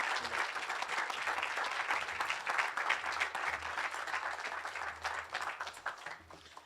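An audience claps steadily at a 2024 awards ceremony, a dense sustained round of applause filling the room for several seconds before tapering slightly at the end.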